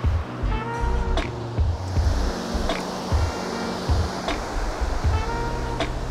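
Rushing river water at high flow near a waterfall, a steady loud broadband roar of churning water that continues without break through the whole stretch.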